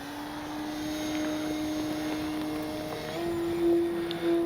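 FLEX RV8 10E G2 electric RC model airplane flying overhead, a steady whining motor tone that rises in pitch near the end, fairly loud and alone without talk.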